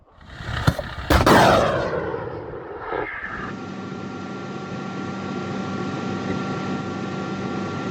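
A British Stormer anti-aircraft missile system fires a missile during an air-defence regiment's combat work: two sharp, loud bangs give way to a roaring rush that fades, then a steady mechanical drone holds.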